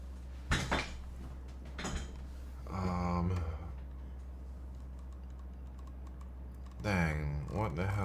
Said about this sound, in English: This is a lot of typing, man.